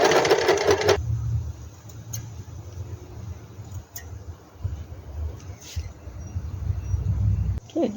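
Sewing machine stitching curved corners on a fabric soap bag, a steady low mechanical hum running throughout after a brief louder burst at the start, close and continuous.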